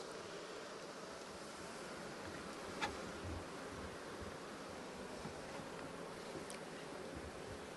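Honeybees around a busy hive while they build honeycomb, with smoke kept over the hive, a dense continuous buzzing hum with no voices, steady and fairly faint.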